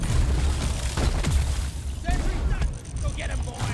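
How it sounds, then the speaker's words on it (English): A heavy bomb blast in a video game, a continuous loud booming rumble with burst-like crackles and a sustained roar, partly overlaid by people talking. "Bomb."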